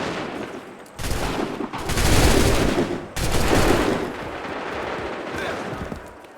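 Musket volleys ring out in Assassin's Creed III, with loud crackling bursts of massed gunfire in two or three waves, close and booming, mixed with game voices.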